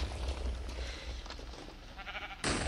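Sheep bleat in the Sheepwars video game: a soft, fairly distant bleat sounds over low game background noise, followed by a brighter burst of game sound at the end.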